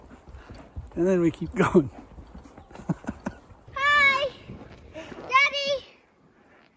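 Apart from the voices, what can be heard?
horse hooves clip-clopping while riding over steps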